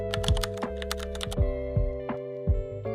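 Keys clatter on a computer keyboard as shortcuts are typed, a quick cluster of taps followed by a few separate presses over a steady electrical hum.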